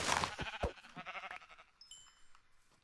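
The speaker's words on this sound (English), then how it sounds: "Get the second sheep." Sheep in the Minecraft video game bleat several times in quick succession, fairly close, followed by a few faint high tones near the end.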